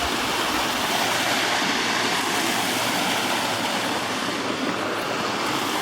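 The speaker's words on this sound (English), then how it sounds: "there's a lot of waterfalls along the trails" Waterfalls and a creek along a Shirley Canyon hiking trail in Olympic Valley: a steady, loud, broadband rush of falling and flowing water, constant and near, with no talk over it.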